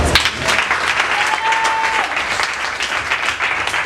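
A church congregation at a prophetic worship service applauding in a dense, sustained wave of clapping, with a faint whistle or tone briefly rising over it.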